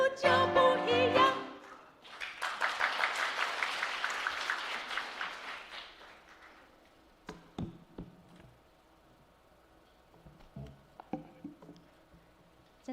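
A congregation claps for several seconds at a Sunday worship service in church, just after a stretch of music, then the clapping fades into scattered knocks and taps amid quiet.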